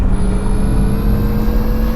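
Electric bus under full throttle in the video game The Bus, a steady loud motor drone with a high whine held for two seconds, no talk over it.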